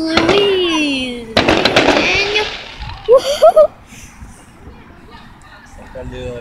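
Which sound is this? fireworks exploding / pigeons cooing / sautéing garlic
fireworks exploding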